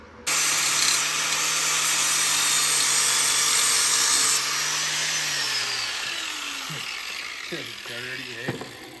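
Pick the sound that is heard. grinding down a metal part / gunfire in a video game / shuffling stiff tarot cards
grinding down a metal part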